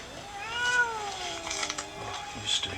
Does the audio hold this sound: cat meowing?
yes